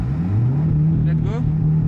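Audi S3 8V engine revving, a loud steady growl close by that rises briefly in pitch and falls back, with people talking over it.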